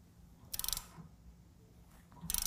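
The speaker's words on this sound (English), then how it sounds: "now we can go ahead and tighten down the lug nuts" Two short bursts of ratchet clicking as a wrench tightens lug nuts on a K2 Mighty Multi Utility Trailer wheel during assembly, close, with a quiet gap between them.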